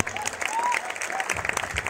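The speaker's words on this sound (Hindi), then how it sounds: "मिस्टर डीएच कदम सर के लिए एक जोरदार तालियां" An audience at a marketing company event claps loudly for an honoured guest, a dense burst of applause with a whistle-like tone and some voices mixed in, trailing slightly toward the end.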